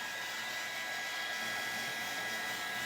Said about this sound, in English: I think I'm going to hit this with the dryer for a little bit